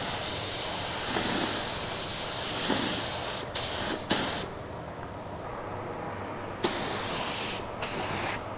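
A spray gun fed by a small compressor lays a second coat on a car during spot painting: a steady broadband hiss with brief bursts and short pauses as the trigger is worked.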